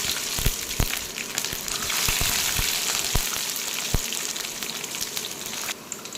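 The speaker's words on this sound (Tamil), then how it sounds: "பூண்டு முழுசாக போட்டுக்கலாம்" Whole garlic cloves crackle and sputter in hot oil with curry leaves for a brinjal gravy, a dense sizzle punctuated by loud pops and spoon clacks, close and continuous.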